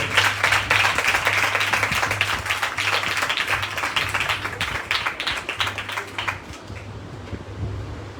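An audience at a religious gathering claps loudly together, a dense wash of applause that stays strong for several seconds before thinning out, with a low hum running underneath.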